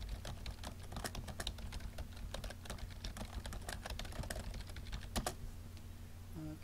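Someone typing a sentence on a computer keyboard in WordPad, a quick irregular run of soft key clicks close by with a couple of louder taps, over a low steady hum.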